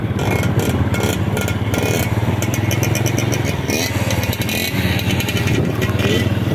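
A boat's motor drones loudly and steadily the whole time, a continuous buzzing rumble with no pauses.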